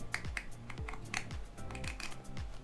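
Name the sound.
gaming headset headband clicking while being extended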